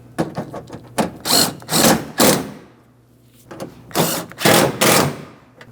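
A power tool snugs up a mounting bolt on the window regulator inside the front door of a 2007–2014 GMC Sierra, heard as several loud, close whirring bursts separated by short pauses.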